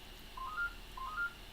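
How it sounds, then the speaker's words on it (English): A house phone rings with a crafter's home in Sweden as the setting, sounding as two short electronic ring bursts, each a quick rising three-note chirp, moderately loud over a quiet room with no talking. "That's the phone call that I'm going to ignore."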